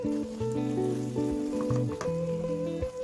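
Eggplant stir-fried with seasoning sauce in a pan gives a steady sizzle close by, broken by the scrape and clatter of stirring, with a tonal hum running beneath it.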